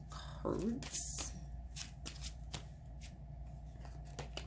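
Tarot cards are shuffled by hand in quick riffling bursts and soft slaps, quiet and close, with a faint voice in the background.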